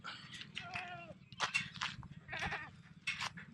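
Several goats bleat in quick succession on a farm, close by, with short wavering calls overlapping across a few seconds.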